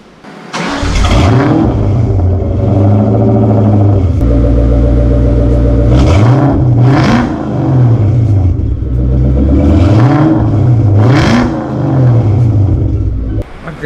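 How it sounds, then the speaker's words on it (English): A Terminator car's engine is revved hard several times, loud and close, the rising and falling roars repeating in bursts over a constant heavy idle rumble, with no talk heard. "I forgot how loud that thing is."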